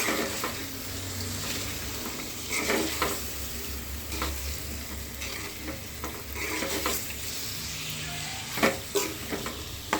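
Food sizzling and frying in a cooking pan with a pinch of turmeric, stirred with scraping strokes that come in irregular bursts over a steady close sizzle.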